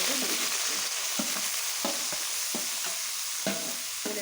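Fenugreek leaves hitting hot oil set off a steady, close sizzle, while a spoon or spatula scrapes and stirs them in a loose, repeated rhythm without any talking.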